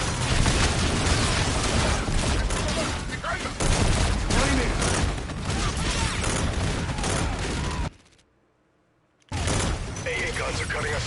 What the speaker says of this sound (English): AA guns are cutting us up